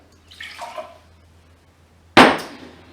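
Water poured out of an inverted Aeropress coffee maker: a soft trickle early on, then a sudden louder splash of water hitting a sink, close and alone.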